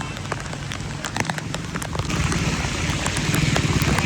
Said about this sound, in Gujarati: જો કેટલો વરસાદ છે અને એ બધે પાણી ભરેલું છે